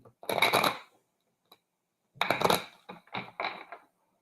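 Tarot cards shuffled by hand in two bursts of riffling and flicking, each about half a second to a second long, followed by a few softer taps and slaps of the deck, close and fairly quiet with no talking.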